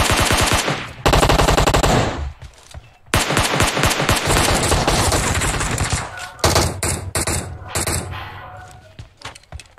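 SCAR rifle fire in PUBG Mobile rattles in long, rapid automatic bursts, loud and close, broken by short pauses and trailing off into scattered shots near the end.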